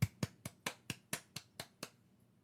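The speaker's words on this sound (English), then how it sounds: "I'll clap right now." Nine sharp hand claps in a steady, even rhythm, close and distinct, with the last few slightly lighter before falling silent.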